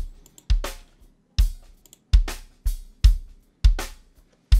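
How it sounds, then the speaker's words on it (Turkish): Two acoustic kick drum tracks sound together in a studio drum mix, punchy low thumps with a sharp click on top, hitting about every second in a steady beat, seven or eight hits, close and clean with no talking. "İki kiki birlikte dinleyelim şimdi."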